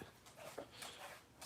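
A dog fed pumpkin and rice whimpers softly while waiting for food, giving faint high whines and small yips with quiet pauses between them.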